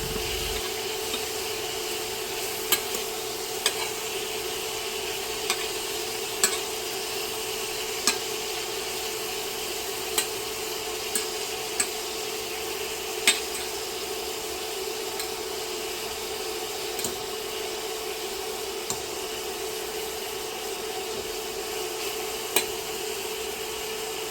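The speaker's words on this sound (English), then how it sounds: "You just want to cook them long enough until they turn pink." Shrimp sizzling in a pan as they are stirred until pink, a loud steady frying hiss with occasional light scrapes and clicks from the utensil and no talking.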